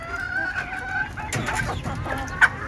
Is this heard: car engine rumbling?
no